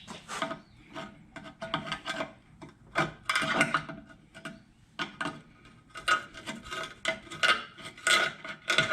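Screwdriver scraping and prying around a rusty ball joint on a Hyundai Santa Fe, a run of close, uneven metallic rasps and rubbing strokes in irregular bursts.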